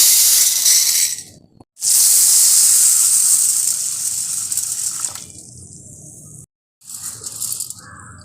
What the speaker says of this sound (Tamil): தண்ணியை நல்லா வடித்து எடுத்தாச்சுங்க